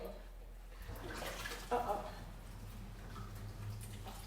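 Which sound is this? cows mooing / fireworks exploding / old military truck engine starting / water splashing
water splashing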